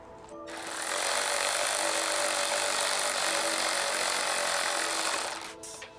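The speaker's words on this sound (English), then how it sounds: "Get a 10 millimeter socket with your impact driver and" Impact driver with a 10 mm socket tightening a clamp on a BMW charge pipe: one loud, continuous rattling whir of about five seconds, close by, starting and stopping abruptly, with no talking.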